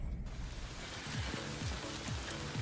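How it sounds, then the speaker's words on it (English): Steady rain hisses across everything, a dense wash of falling water with low rumbling underneath, constant and fairly loud. "it is pouring rain out here"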